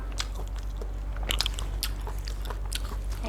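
Crunchy bites and wet chewing of cooked sweet sea snails, close to the mic, with sharp crisp snaps in an irregular rhythm and no talking.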